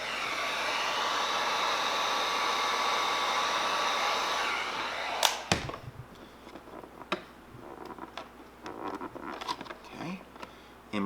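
Heat gun blowing a steady loud whoosh while warming a vinyl decal wrap on a Traxxas Maxx 4S RC car body, then cutting off abruptly, followed by soft ticks and handling taps.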